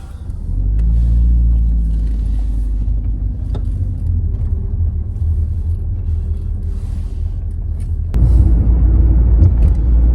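An old Audi car drives with a loud, steady low engine rumble, rising briefly near the end as it accelerates, with no voices.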